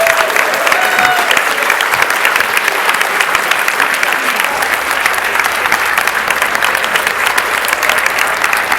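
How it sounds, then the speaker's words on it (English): Loud, sustained applause from a live audience at the AGDQ 2015 speedrunning marathon, dense clapping continuing throughout after a Ninja Gaiden relay race. "Round of applause for all the amazing Ninja Gaiden runners today."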